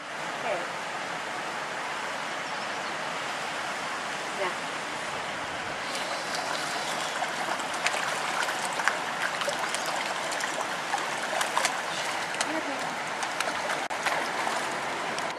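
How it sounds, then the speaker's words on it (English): Steady rushing and trickling water drains into a creek, flowing continuously, a broad wash of sound with faint splashes and clicks over it, no speech. "we're at the end of the property here where the water drains out into the creek"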